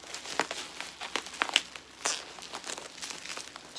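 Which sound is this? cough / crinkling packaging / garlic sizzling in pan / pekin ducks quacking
crinkling packaging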